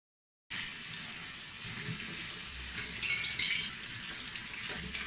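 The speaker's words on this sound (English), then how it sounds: "I'll rinse this in water" Water runs and splashes steadily after a brief silence, a constant close wash as photo paper is rinsed under a stream.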